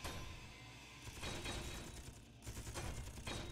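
A gun firing in Space Engineers, a steady grinding rattle of rapid automatic fire that runs continuously at fairly close range, with slight surges in intensity and no speech.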